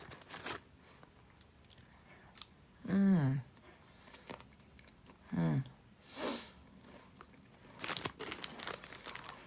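Crunchy bites and chewing of Mini Cheddars cheese-flavoured baked snacks, close to the microphone, with crinkling of the packet and a few short vocal sounds between bites.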